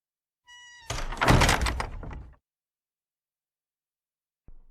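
Doors are flung open in a visual novel: a short creak leads into a loud, heavy wooden thunk and rattle lasting over a second, then silence and a faint later knock.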